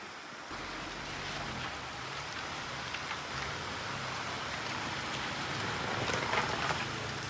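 Steady rain hisses continuously, a dense even wash of noise with faint rumble underneath.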